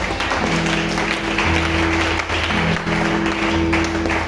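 A church congregation applauds and acclaims in a continuous wash of clapping and crowd voices, loud and steady throughout, with sustained musical tones underneath.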